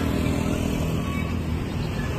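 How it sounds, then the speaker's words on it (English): Steady, loud roar of motorcycle engines passing continuously along a busy street near the royal palace in Cambodia, a dense wash of traffic noise with no gaps and no talk. "many motorcycles."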